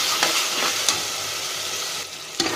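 Mint and coriander leaves stirred and sizzling in a pan for mushroom biryani, a steady close frying hiss with a few scraping stir strokes, no talk.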